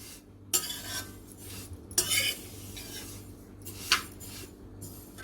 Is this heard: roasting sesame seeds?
yes